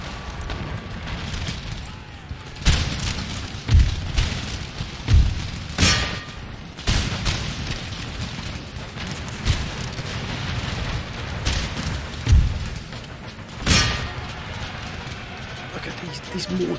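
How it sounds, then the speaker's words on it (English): Mortar artillery in a large Napoleonic-era battle in Empire: Total War, booming thuds at irregular intervals over a constant rumble of battlefield noise, with someone talking throughout. "These mortars are an absolute pain."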